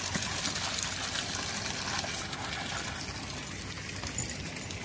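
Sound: water overflowing from a water source

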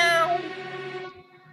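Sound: cat meowing

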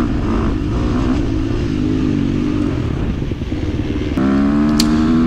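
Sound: KTM 350 XC-F dirt bike racing in a hare scramble

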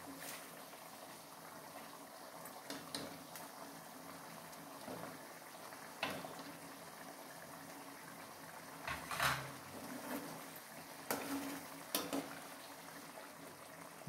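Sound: egg masala curry gravy boiling in a pot

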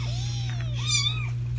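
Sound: Siamese kitten meowing

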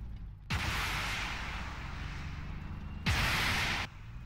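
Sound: artillery fire in a tank video game

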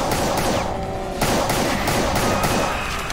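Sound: pistol gunshots in the video game SIGIL (Doom)

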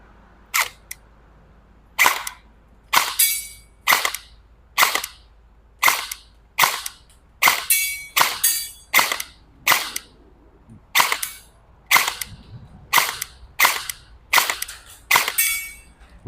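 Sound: E&C 302 M4 airsoft electric gun shooting at a target

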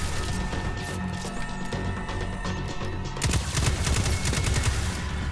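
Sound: gunfire in the video game Destiny 2

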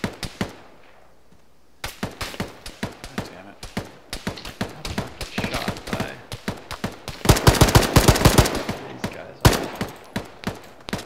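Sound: gunfire in the video game ArmA

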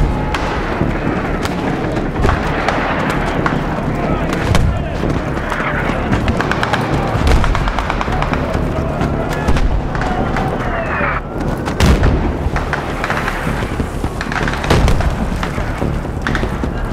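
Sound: mortar fire in video game Battlefield 3

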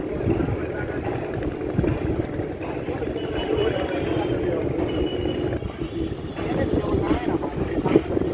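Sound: cargo launch boat on river

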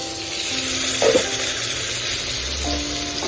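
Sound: stirring pointed gourd frying with mustard paste and chillies

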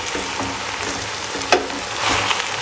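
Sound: stirring sizzling green beans and chopped tomatoes in pan

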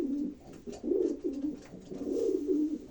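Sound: pigeons cooing in a loft

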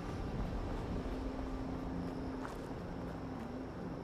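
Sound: helicopter flying in video game Fallout 76

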